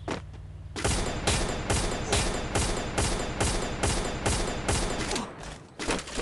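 Rapid exchanges of gunfire in the mobile battle game Free Fire, loud evenly spaced bursts repeating one after another almost without pause, close and dominant throughout.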